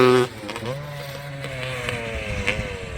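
A Kawasaki KX250 two-stroke dirt bike engine runs steadily with a buzzing, slightly wavering drone after a brief louder start, heard close by, with a voice briefly over it.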